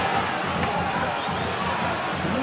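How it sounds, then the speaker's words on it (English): Football crowd murmuring in the stands at a Tranmere Rovers v Forest Green League Two play-off match, a steady, dense wash of many distant voices with no distinct cheer or chant, continuous throughout. "murmurs of discontent down below, isn't there? Just the crowd maybe just getting a little bit anxious"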